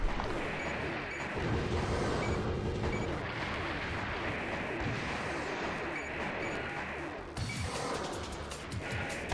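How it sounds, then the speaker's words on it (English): Missiles exploding in the Armored Core mech combat game, a dense, continuous barrage of booming blasts and crashing impacts that rumbles without pause for the whole stretch, with a sharper burst of detonations near the end. "Oh yeah, you can see the missiles exploding."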